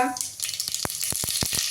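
Mustard seeds hit hot oil with a burst of sizzling, followed by a quick series of sharp pops and crackles close by.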